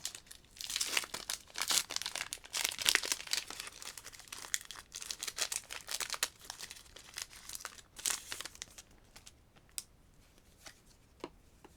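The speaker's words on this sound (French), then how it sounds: "Si j'arrive à ouvrir le booster" Crinkly foil wrapping of a Pokémon Evolutions booster pack being torn and pulled open by hand, a close run of sharp rustling crackles that thins out into a few isolated crinkles near the end.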